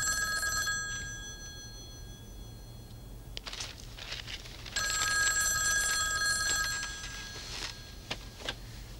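A hotel room telephone in a 1988 television film rings in two bursts of bright, rapid electric bell trills separated by a short pause, fairly faint against quiet room tone.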